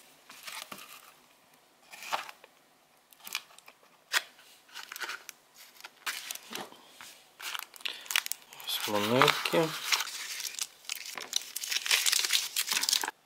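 A small paper coin envelope holding silver coins is handled, opened and unwrapped, with crisp crinkling and tearing rustles in bursts while someone talks throughout.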